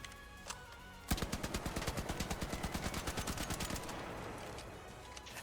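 Tempest rifle at level 1 in Arc Raiders firing a rapid automatic burst of about twenty evenly spaced shots over a few seconds, loud and close, followed by quieter reload handling sounds.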